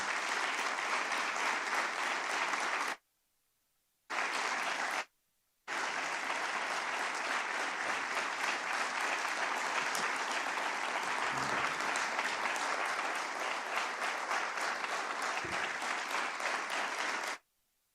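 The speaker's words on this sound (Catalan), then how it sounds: "Crec que sí que l'aplaudiment ens el mereixem tots" Audience applause at a talk, loud and sustained clapping from a packed room that stops briefly twice before carrying on steadily to the end.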